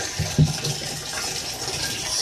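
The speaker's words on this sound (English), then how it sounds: "So then the pump is pumping the water up to here through this valve that's being metered." Water is pumped through a metered valve and hose into a lidded tank, giving a steady rushing, splashing flow with a brief thump near the start.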